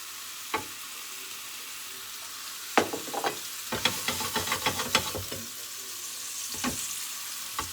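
A low-carb apple crêpe cooking in oil in a pan, a faint continuous sizzle broken by a cluster of utensil scrapes and taps against the pan.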